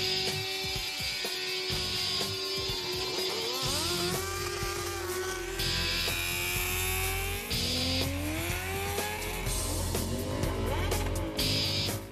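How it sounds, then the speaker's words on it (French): A Harley-Davidson motorcycle does a tire burnout on a track, a loud sustained engine roar with rising and falling revs and squealing tire noise continuing steadily throughout. "lors des burn-out sur la piste, les pièces de moto sont poussées à leurs limites et au-delà"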